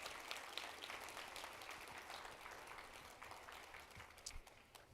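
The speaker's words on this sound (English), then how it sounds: "How about another round of applause for Director Chopra?" A conference audience claps steadily throughout, a dense, even wash of applause heard from within the hall without any talk.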